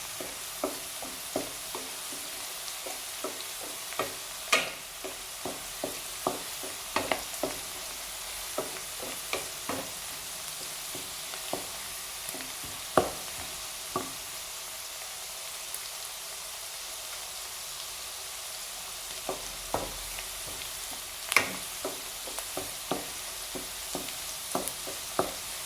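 Chambakka (rose apple) pickle ingredients sizzle and crackle in a pan while being stirred, with soft steady frying hiss and frequent small pops and scraping clicks of a spoon throughout, no voices.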